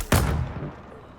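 A turret fires one heavy, booming shot in the survival game Dune Awakening, loud and close, its low rumble trailing off over about a second.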